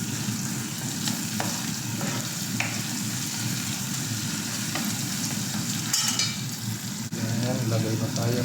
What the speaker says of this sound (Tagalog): magigisa tayo ng bawang sibuyas